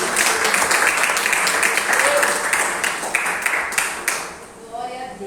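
A church congregation applauds during a Thursday evening worship service, a dense, steady wash of clapping that holds for several seconds, then thins and fades as a voice begins speaking near the end.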